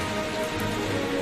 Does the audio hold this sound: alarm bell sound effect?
no